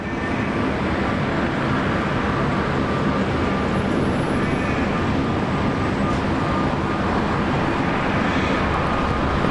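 A Velocity Boeing 737 Max 8 airliner at Brisbane Airport, a broad steady jet roar that holds loud and constant throughout, with no voices.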